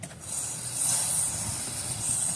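Cleaner sprayed onto a bike chain while the wheel is turned, a continuous close hissing spray that swells and holds for a couple of seconds.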